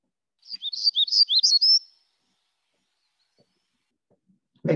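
A black-throated gray warbler sings one short buzzy, rising phrase of several quick notes lasting under two seconds, clear and fairly close, followed by silence and then a brief low thump at the very end.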